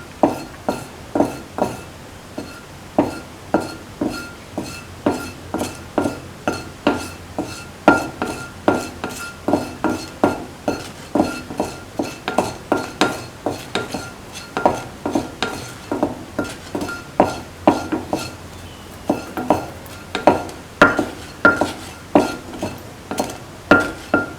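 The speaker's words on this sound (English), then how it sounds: "Keep on sauteing." Beans sauteing in a pan, stirred with a utensil in a steady rhythm of scraping clinks against the metal, loud and close, with no talk over it.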